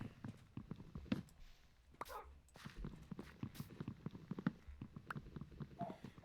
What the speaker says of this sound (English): being a noisy little dog